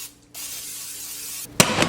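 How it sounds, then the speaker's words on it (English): Cooking spray hisses steadily from a can into a pot on the stove for about a second, cuts off, then comes in two short louder bursts, close up and without talk. "The sides of this get really sticky, so I always spray it down."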